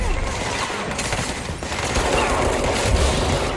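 Sustained gunfire in the shooter game Control, a loud, dense, unbroken volley of shots filling the whole short stretch.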